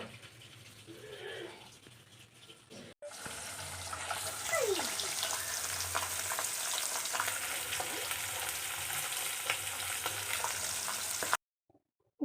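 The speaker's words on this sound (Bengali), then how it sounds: "আর এদিকে মাছ ভাজা তো বসিয়ে দিয়েইছি" Bhola fish frying in a pan in a home kitchen, a steady loud sizzle with stirring scrapes, briefly cutting out near the start and falling silent at the end.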